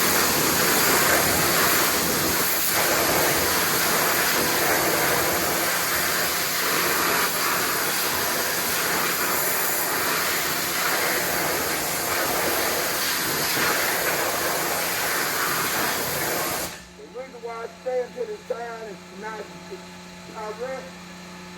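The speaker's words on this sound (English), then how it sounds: "I don't want none of the blowback from the pressure washer and the water kicking back in my face or clothes" Pressure washer spraying water onto the wheels of a 2024 BMW M4, a loud continuous hissing roar that runs steadily for most of the stretch, then cuts off abruptly, leaving someone talking alone.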